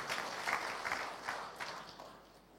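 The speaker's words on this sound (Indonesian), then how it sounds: "Berikan tepuk tangan yang meriah buat Tuhan." A congregation clapping at a church worship service, a moderate burst of applause heard at some distance with a faint roomy wash beneath it.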